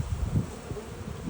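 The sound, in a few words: honey bees buzzing around hive boxes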